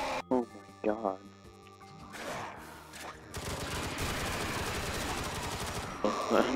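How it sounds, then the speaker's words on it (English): An MP5 submachine gun in a video game fires a sustained, fast automatic burst for several seconds, preceded by short game sound effects and followed by a trailing tone; a voice talks over it. "Oh, the MP5 sound."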